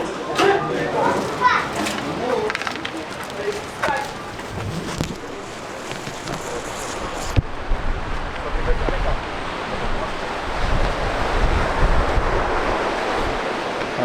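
Waves roll onto a sand beach on São Miguel in the Azores, a broad wash of surf and wind noise. People talk and children's voices are heard in the first half, and the surf grows fuller afterward.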